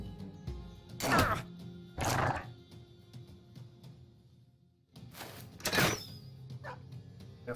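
A dog barks in the medieval tactics game Battle Brothers, a few loud separate barks in two clusters against quiet background ambience.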